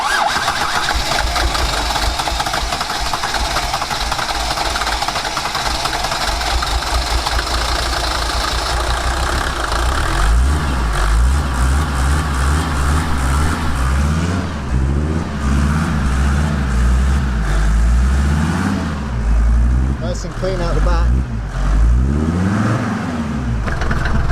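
A Luton van engine cranks and catches after fuel priming, then idles loud and close before being revved several times in rising and falling surges.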